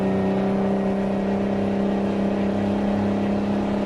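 A heavy truck engine in American Truck Simulator drones steadily at a constant low pitch while climbing a hill, close and continuous with no voices.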